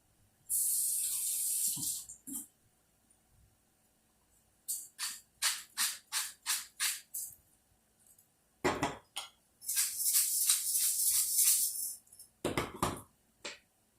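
Cooking spray hisses onto a mesh coating tray in a home kitchen, in several short, sharp bursts separated by pauses, with the occasional clink of the tray.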